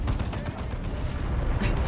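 Artillery fire in the Dawn of War II: Chaos Rising strategy game, a rapid run of booming blasts and gunfire bursts rolling under a busy battle din, moderately loud.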